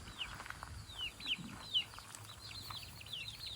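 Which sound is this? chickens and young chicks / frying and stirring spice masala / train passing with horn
chickens and young chicks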